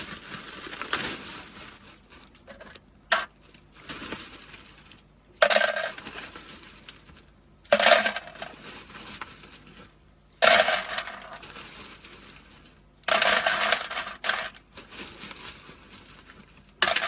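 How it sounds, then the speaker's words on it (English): Five pounds of ice tumbles into a cooler in several separate pours, each a sharp clattering rush of cubes that rattles and settles before the next, with quieter shuffling in between. "Five pounds of ice."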